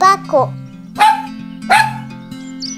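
A dog gives three short, sharp barks spaced about a second apart, close and clear over a steady background tone.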